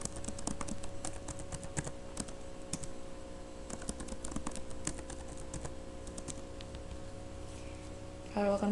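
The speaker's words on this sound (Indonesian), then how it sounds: "ketik add user spasi NRP, lalu enter" Someone enters a command on a computer keyboard, producing a quick run of crisp key clicks with short pauses, ending in a firmer keystroke, while a voice talks faintly underneath.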